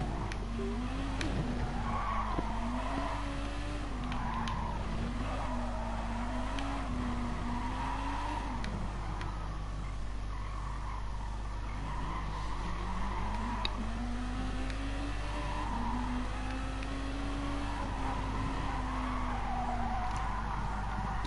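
Car tires skidding and squealing in Gran Turismo Sport during an All Japan GT Car Championship race, a steady loud engine drone with wavering tire squeal running through most of the stretch.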